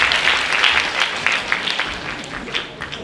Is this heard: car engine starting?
no